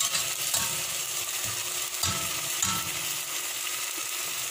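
Tomatoes sautéing in a pan for corn soup give a constant close sizzle, broken by a few soft stirring scrapes and knocks. No one speaks.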